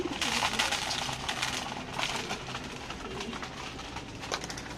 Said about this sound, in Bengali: দেখেন মাশাআল্লাহ কবুতরগুলো বাহিরে বসে আছে